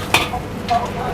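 Hainanese fried rice is stir-fried in a wok in a busy food stall, with a steady sizzle and a couple of sharp scrapes of a spatula against the pan, close and fairly loud.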